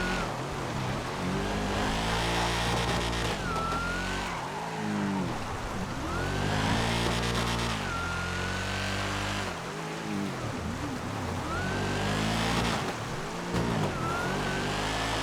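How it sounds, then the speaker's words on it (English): A loud, throaty modded car engine in a GTA FiveM video game revs hard and climbs through gears again and again, with rising whines between shifts and no talking. "This is going to be one of the coolest mod cars, especially the engine sound."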